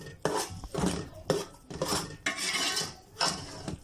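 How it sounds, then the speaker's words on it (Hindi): Spoon scraping and clanking against a pot while flour is stirred into thick sarson ka saag, a run of repeated close scrapes and knocks with no talking. "अब हम इसमें 3 टेबलस्पून आटा शामिल करेंगे और इसको अच्छी तरीके से मिक्स करेंगे।"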